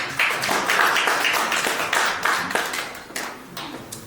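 An audience at a climate and indoor air quality presentation gives steady, moderately loud applause as a speaker is welcomed onto the stage, with dense clapping and no speech.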